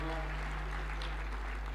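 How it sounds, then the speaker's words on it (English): Applause from the audience at a devolution conference launch in Homabay County for a senator, a short burst of many hands clapping under a strong low hum, faint and even. "Another round of applause for Senator Kajwang"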